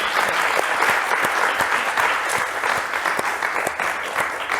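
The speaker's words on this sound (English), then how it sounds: "Please give me a round of applause for our amazing speakers" Warm round of applause from an audience for the panel speakers at a mental health in the workplace event, steady clapping with distinct individual hand claps lasting several seconds.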